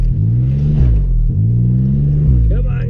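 A Pontiac Grand Prix GT's engine revs hard as its tires spin while trying to climb a hill, a loud rising and falling roar in two long surges.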